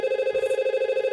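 A VoIP desk phone line ringing out on a call to extension 1004 in a voice VLAN setup, heard as a steady, evenly pulsed ringback tone that repeats in quick regular beats throughout, with no talking.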